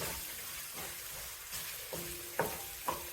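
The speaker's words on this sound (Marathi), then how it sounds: "तेल सुटेपर्यंत छान आपला मसाला आपण भाजून घेऊया" Spiced masala roasting in oil for a spring onion and chana dal curry, a soft steady sizzle with a few brief stirring scrapes.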